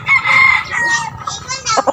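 An old rooster, about seven years old with yellow legs, crows loudly and close by, one long strained call ending in a few short clucks.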